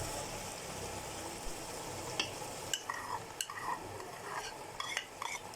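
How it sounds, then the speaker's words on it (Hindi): Whisked yogurt is stirred into sizzling chicken jalfrezi masala over a medium flame, a steady close frying hiss with intermittent scrapes and clinks of a spoon against the pan. "अब हम अच्छी तरह से इसे मिक्स कर रहे हैं"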